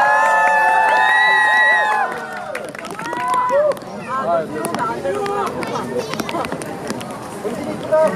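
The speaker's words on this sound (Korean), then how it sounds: "뜨거운 박수로 맞이하겠습니다" Crowd cheering and shouting at an outdoor K-pop concert as the group is introduced for a final song, with a long held cheer at first giving way to scattered yells, whistles and clapping mixed with chatter.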